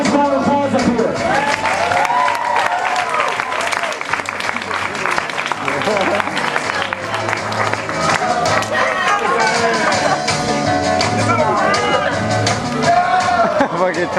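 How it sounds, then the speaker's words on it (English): Audience applause at a high school grad night hypnosis show, loud continuous clapping from a large crowd with music and scattered shouts mixed in throughout. "Give these guys a nice round of applause up here."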